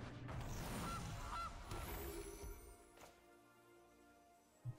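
An MTG Arena video game card effect for Gilded Goose plays a cartoonish goose honk, a brief squawk at the start over quiet layered game effects, faint overall.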